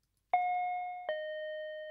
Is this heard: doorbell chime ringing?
yes